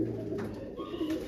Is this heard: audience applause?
no